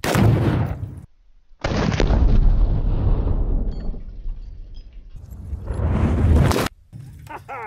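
Loud explosive blasts from a shot target at an outdoor shooting range, two big booms with long rumbling decay, the second near the end, separated by quieter rumble and ambient noise.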